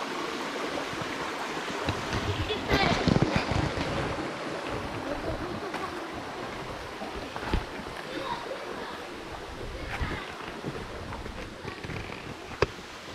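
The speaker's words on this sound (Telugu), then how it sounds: "లోపల వస్తున్నటువంటి నీళ్ళు చాలా పెద్ద శబ్దం వస్తుంది." Steady, loud rush of the Antharganga river flowing underground in dense forest fills the clip, a broad continuous roar with occasional faint voices in the background.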